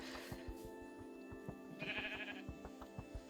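Sheep bleat in the video game Minecraft, near and clear over a steady background of game music, with a louder, brighter bleat partway through.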